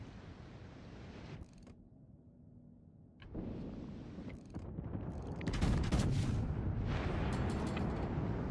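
Heavy naval gunfire from a battleship in World of Warships, with deep booming salvos and rumbling blasts that swell louder toward the end, layered over a constant roar of sea and engine.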